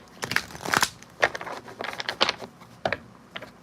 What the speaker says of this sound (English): Let's get 2 more shuffles.